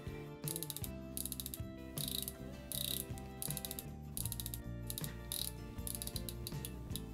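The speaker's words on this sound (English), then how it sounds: "you can turn this, it's a unidirectional 120 click, so you can turn this" A Horage Supersede GMT watch's unidirectional 120-click bezel turned in close bursts of rapid, crisp ratcheting clicks, separated by brief pauses between turns.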